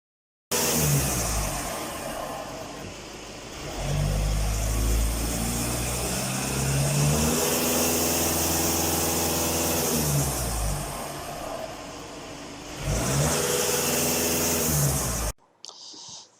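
Car engine revving up under acceleration from a steady idle, rising and holding at higher revs before dropping back, moderately loud and close with no talk.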